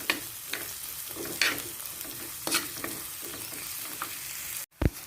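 Garlic and curry leaves frying for a Kerala fish curry in a clay pot, a steady close sizzle with several scraping stirs and a sharp clatter near the end, no talking.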